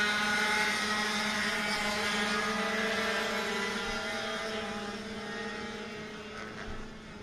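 Racing kart engines at Sonoma Raceway Kart Track drone down the straightaway in a sustained, fairly distant whine that slowly fades, with no talk.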